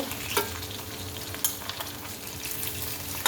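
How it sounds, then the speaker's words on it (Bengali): Boal fish coated in salt, turmeric and chili fries in hot oil, giving a steady, moderately quiet sizzle with a few sharper crackles and spits and no voices. "বোয়াল মাছটা আমি লবণ হলুদ মরিচ দিয়ে মাখিয়ে ভেজে নিচ্ছি"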